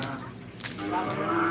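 Cattle lowing at a karapan sapi, a Madurese bull race on a field in Pamekasan, with a drawn-out moo rising over a busy outdoor crowd murmur, fairly close.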